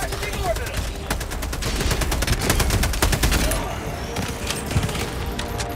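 Dense, sustained volleys of rapid explosive impacts from an orbital auto barrage strike in Helldivers 2, rolling booms and crackling blasts layered over constant battle noise, loud and continuous throughout.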